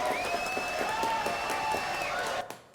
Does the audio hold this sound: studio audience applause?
yes